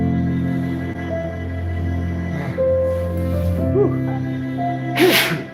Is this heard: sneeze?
yes